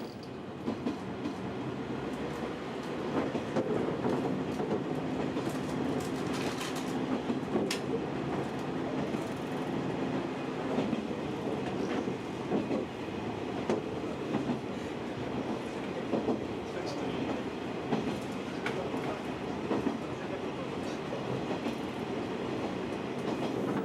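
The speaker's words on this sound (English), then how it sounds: "over 150 bullet trains crisscross Japan" A Japanese bullet train runs with a continuous rumble and faint rhythmic clatter of wheels, steady and moderately loud throughout, with no talk.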